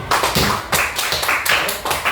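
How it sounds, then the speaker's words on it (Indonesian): A classroom group clapping hands together in a quick, steady rhythm of sharp bursts, fairly close and loud, with scattered voices mixed in. "Kita sebenarnya tepuk tangan dulu."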